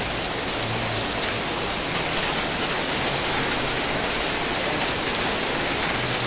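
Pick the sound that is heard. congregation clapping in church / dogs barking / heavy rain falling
heavy rain falling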